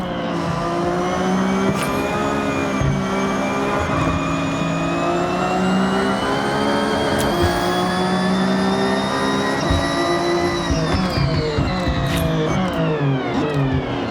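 A car in the racing game Forza Horizon 6 drives steadily, its engine a loud, continuous hum whose pitch climbs gradually and dips near the end. There is no talking.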